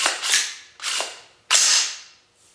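Side charging handle on a budget PSA AR-15 build being racked back three times, each a sharp, close metallic clack followed by a fading mechanical slide and ring, with no talking.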